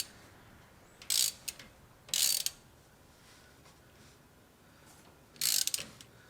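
Ratchet clicking in three short bursts while snugging the rear differential fill plug on a 2011-or-later Ford F250 pickup, close and crisp against a quiet background.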